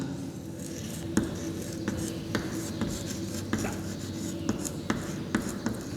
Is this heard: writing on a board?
yes